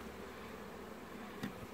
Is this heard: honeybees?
yes